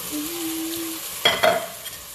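Chili peppers drop into a hot pan and start frying with a short burst of sizzle and a stir. A clear, close splash of crackling comes after a steadier moment.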